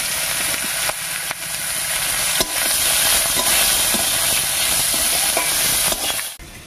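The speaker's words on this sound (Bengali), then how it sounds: "এবার এর মধ্যে দেবো একটা বড় সাইজের পেঁয়াজ কুচি।" Chopped onion hits hot oil already sizzling with whole cumin seeds and bay leaves, giving a loud, steady frying hiss throughout with occasional scrapes and clicks of stirring.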